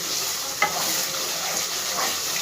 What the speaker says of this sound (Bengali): দিয়ে ভালো করে মশলাগুলো সব আমি ভেজে নেবো যতক্ষণ না তেল ছেড়ে যাচ্ছে মশলা থেকে